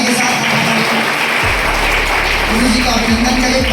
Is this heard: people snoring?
no